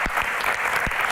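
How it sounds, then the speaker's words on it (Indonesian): Brief, loud burst of audience applause at a Q&A session, dense clapping with a few sharper individual claps standing out, no talk on top. "Tepuk tangan"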